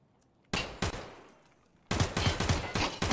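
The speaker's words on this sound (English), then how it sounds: "No, they're shooting." Gunfire in the video game Escape From Tarkov: a sharp shot rings out, then after a pause a rapid burst of repeated automatic fire, loud and close, with no talk over it.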